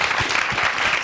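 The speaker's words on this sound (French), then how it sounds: "On applaudit." An audience applauds at a live broadcast event, giving a continuous, even wash of many hands clapping that holds steady throughout.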